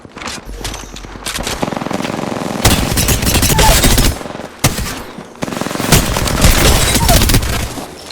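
Rapid automatic gunfire from the Apex Legends video game rattles in loud, dense bursts almost continuously, with a few brief gaps.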